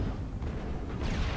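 A grenade explodes in the video game Mass Effect, a dense, rumbling low blast that fills the short stretch and swells again toward the end.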